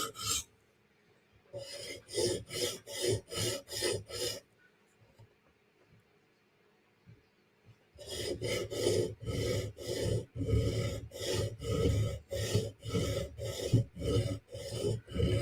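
A steel knife blade is drawn across a sharpening stone in quick repeated rasping strokes, about six in a first run and a longer steady series after a pause, each stroke a close, gritty scrape with soft background noise between.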